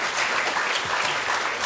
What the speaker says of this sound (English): And a round of applause for the plucky losers.